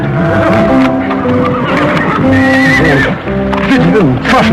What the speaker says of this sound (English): You listen to horse.